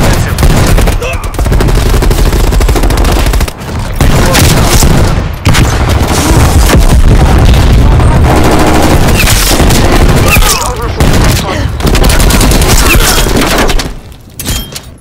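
Hand cannon gunfire in Black Ops Cold War, loud and dense with rapid shots, explosions and thuds packed together almost without pause, briefly dropping out a few times before fading near the end.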